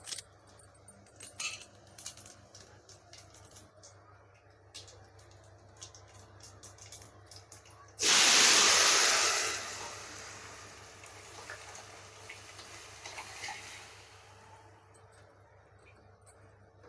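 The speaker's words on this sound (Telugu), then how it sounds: "మన తాలింపు ఎంత సుయ్యి మన సౌండ్ వస్తుందో అంత టేస్టీగా ఉంటుంది." Spices dropped into hot oil for tempering burst into a loud, sudden sizzle that hisses strongly for a couple of seconds, then fades to a softer crackle, preceded by quiet kitchen clinks.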